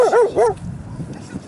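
A dog on a walk around Hellevoetsluis gives two loud, close, yelping barks, then faint rustling and quiet background sounds follow.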